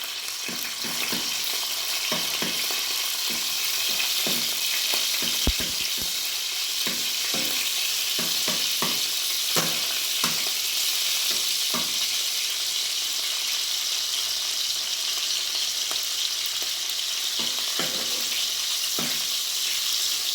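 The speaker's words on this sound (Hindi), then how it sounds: "ये देखिए लहसुन ब्राउन हो रहा है।" Garlic sizzles steadily in hot ghee, a bright continuous crackle broken by frequent scraping clicks of stirring.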